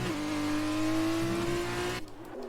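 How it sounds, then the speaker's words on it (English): Formula 2 race car engines idle and rev on a Mexico circuit, a steady loud droning tone with a rising pitch that cuts off abruptly near the end. "And you hear some engines firing up there."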